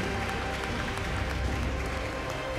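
A church congregation applauding together during a special Sunday service, a steady wash of clapping that fills the room throughout, with faint voices mixed in.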